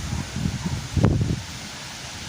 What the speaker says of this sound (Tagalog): Mahangin nga